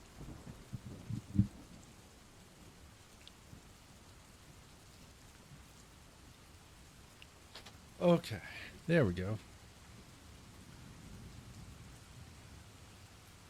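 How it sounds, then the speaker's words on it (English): Steady rain with distant thunder plays as low background ambience throughout, with someone speaking briefly over it near the start and a couple of short louder knocks partway through. "I'll turn this rain down a little bit."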